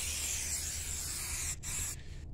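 Griot's Garage black satin tire shine sprayed onto a tire, a steady close hiss of aerosol spray running for about two seconds with a brief break near the end.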